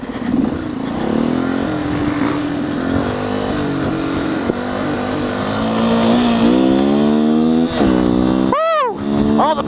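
A 2019 Beta 125 RR S dirt bike revs and accelerates up close, its two-stroke buzz holding steady, then climbing in pitch through repeated rises, with a sharp rev burst near the end.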